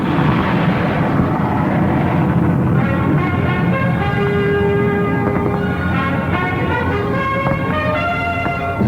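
Jet airliner sound in a 1960 American Airlines radio commercial: a steady, loud roar with a high whine and tonal, music-like layers held for about nine seconds, with no talking.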